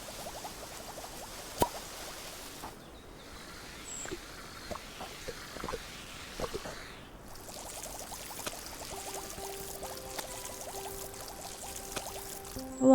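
Water spraying onto fires in Fresh Start Cleaning Simulator, a soft continuous pour and stream with scattered plops and splashes, fairly quiet under light game ambience.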